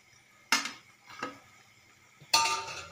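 Fried potato bhaji fritters in gram-flour batter are lifted out of a pan of hot oil over a high gas flame, with three sharp metal clinks and scrapes against the pan, close by and separated by quiet pauses.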